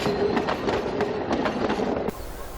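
Steady rumbling clatter of a small narrow gauge train rolling along rails, with rhythmic wheel clicks over joints, close and continuous.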